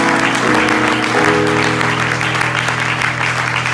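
Church congregation applauding and cheering loudly, a dense steady wash of clapping and voices filling the room, with a low sustained tone beneath.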